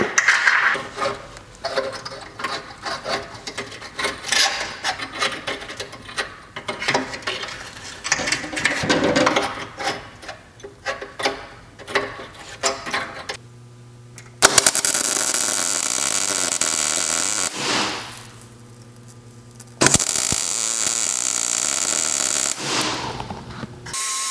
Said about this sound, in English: So I just need to use a magnet to sort of pull it up into place and then weld it.